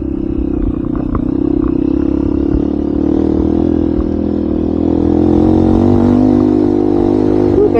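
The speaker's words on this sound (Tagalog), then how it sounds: "Parang chainsaw na yung tunog ng makina ko." Motorcycle engine on a rough mountain road toward Tacadang, Kibungan, Benguet, droning steadily with a raspy, chainsaw-like buzz and rattling clatter, loud and close, with no talking.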